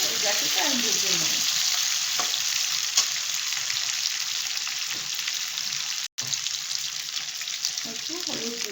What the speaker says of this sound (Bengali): দিয়ে আমি এবার গাঁটিটা ভেজে নেবো ভালো করে